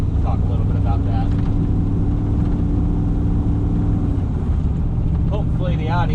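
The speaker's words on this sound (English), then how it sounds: "there's a bunch of cabin noise between the exhaust and my interior rattling" A 1999 Chevrolet Silverado with a twin-turbo 6.0L V8 and T56 manual swap drones from inside the cab: loud, constant low exhaust rumble mixed with interior rattles, with occasional faint voice-like sounds.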